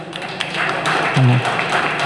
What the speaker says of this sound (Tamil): கை தட்டினீங்க நல்லா இருக்குங்க